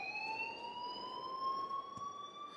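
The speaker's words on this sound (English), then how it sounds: "please turn off that alarm since that's your job." A school alarm rings inside the video game Life Is Strange, a steady high electronic tone with bright harmonics that holds loud and continuous the whole time, with no talking.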